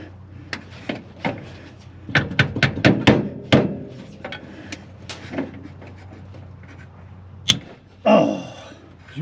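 Metal screwdriver hammered into a stuck, over-tightened oil filter on a 1973 Charger, a run of sharp clanging blows in quick succession, then scattered single strikes and a scraping clatter near the end.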